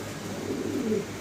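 Budapest fancy pigeons give a brief, soft, low coo close by, a single short throaty call with no talk.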